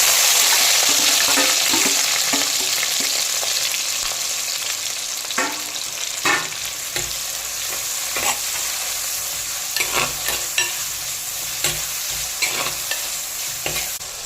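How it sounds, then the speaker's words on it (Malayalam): Shallots, ginger, green chili, curry leaves and garlic sautéing in a pan with steady loud sizzling, punctuated by repeated scrapes and taps of a spatula stirring throughout, with no talking. "ചെറുള്ളി, ഇഞ്ചി, പച്ചമുളക്, വേപ്പര, വെളുത്തുള്ളി ഒക്കെ കൂട്ടി നമുക്കൊന്ന് വഴറ്റാം"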